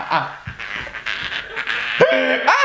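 A person imitates an aggressive dog with their voice, giving a run of growls, yips and whining barks that rise and fall, loud and close.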